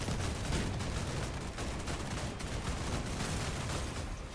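Dense video game gunfire, a continuous loud barrage of overlapping shots and bursts that fills the whole stretch without pause.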